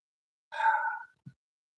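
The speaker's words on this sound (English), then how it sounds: "We're going to introduce that Ujjayi breath in." A breathy Ujjayi exhalation, the open-throated "ha" sound used in yoga, rises as one long soft sigh of about half a second, then a brief low puff follows; close and quiet with no talk.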